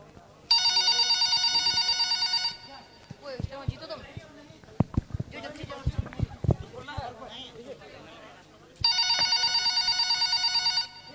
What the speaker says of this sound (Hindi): अचानक अपने बड़े बेटे असलम का फोन आता है।